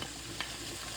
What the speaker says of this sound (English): it came to sizzle. I'm just keep stirring it.